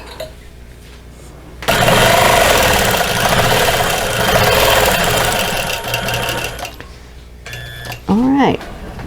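A quilting sewing machine works through the China Plate quilt, a loud sustained mechanical run lasting several seconds between quieter stretches, followed by a short burst of motor noise near the end.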